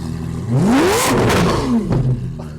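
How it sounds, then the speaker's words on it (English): A Lamborghini Aventador LP 700-4 with a custom exhaust revs up sharply, climbs in pitch and drops back, then gives a second shorter blip, loud and close, with no talking. "Give it a little rev."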